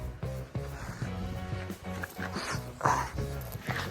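Several dogs whine and yelp in short repeated bursts nearby, an excited pack of high-pitched whimpers with faint background noise.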